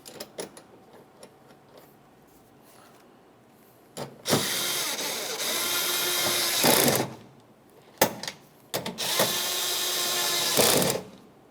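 Mounting nuts on the tailgate latch of a 2001-2005 Ford Explorer Sport Trac being snugged up with a power tool, heard as two loud sustained mechanical whirring bursts of a few seconds each, with softer clicks and handling noise between them.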